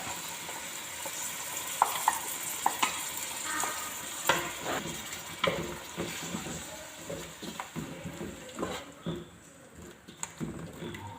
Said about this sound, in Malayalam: നമ്മുടെ തക്കാളി ഉള്ളിയെല്ലാം വഴന്ന് റെഡിയായിട്ടുണ്ട്